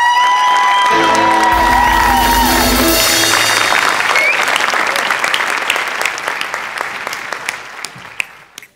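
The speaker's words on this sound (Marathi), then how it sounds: "एकदा उभं राहून टाळ्या वाजवा." A studio audience on a Marathi comedy show stage rises for loud, sustained applause with scattered cheers, after a brief musical sting at the start; the clapping fills the room, then thins and tapers toward the end.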